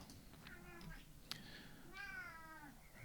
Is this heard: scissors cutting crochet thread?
no